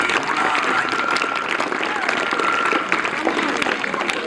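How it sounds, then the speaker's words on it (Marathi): A school audience at a lecture at Shri Malganga Vidyalaya in Nighoj bursts into steady applause, continuous clapping that fills the whole stretch at a strong, even level with some murmuring. "सर्वांनी टाळ्या वाजवा"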